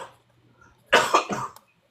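A person nearby gives two or three quick, harsh coughs in rapid succession after a moment of near silence, close and clear in a quiet room.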